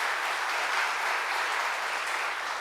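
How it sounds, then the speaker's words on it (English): A large audience at the 2024 Presidential E Awards for export achievement applauds in a steady, even wash of clapping that fills the whole stretch without a break. "round of applause, folks."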